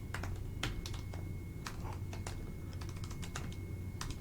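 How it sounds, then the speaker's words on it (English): Fast, irregular clicks of fingers typing on a computer keyboard while a real estate contract is filled in, steady and close with no talk. "If I can type."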